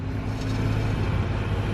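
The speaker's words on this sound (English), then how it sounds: "This guy's gonna drop the ramp and Matt is gonna try and drive it on" A car engine idles and revs low as the car is eased onto a dropped ramp, a steady rumbling drone held at close range without talk.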